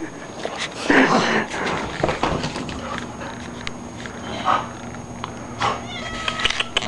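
A cat meows and caterwauls close by in a home with a hyper, jumping dog, several sharp cries over scuffling, footsteps and a person talking.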